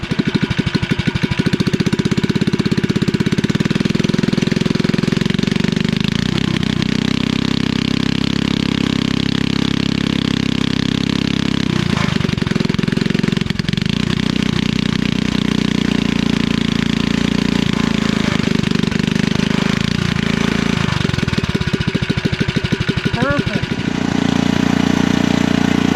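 REO trike engine with no muffler, running loud and steady at close range for the whole stretch, a harsh unmuffled idle with slight variations in speed.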